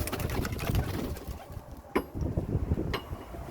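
Pet pigeons cooing inside their coop at close range, low soft murmuring calls running throughout with a few brief sharper sounds.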